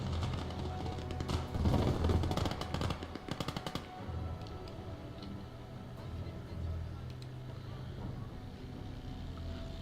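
Machine gun fire in the video game Call to Arms on the Eastern Front: rapid bursts of gunfire crackle loudly in the first few seconds, then give way to a rumbling engine-like drone, with a player talking over it.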